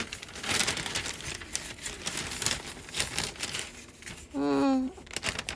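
Wrapping paper is laid out and cut while building a Disney princess castle gift basket: a run of soft crinkling and rustling, then a short, louder burst near the end, with a voice heard alongside.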